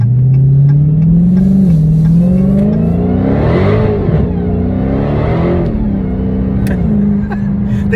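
Dodge Challenger Hellcat with an active exhaust accelerating on a busy road, a loud continuous engine drone rising in pitch, swelling in the middle as it revs and then settling back.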